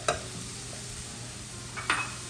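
Mushrooms seasoned with salt and pepper being stirred in a pan for beef Wellington, a soft scraping stroke at the start and another near the end over a faint steady sizzle.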